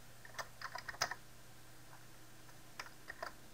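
Keys clatter on a computer keyboard in two short bursts of quick, light taps separated by a pause, close and fairly quiet with no talking.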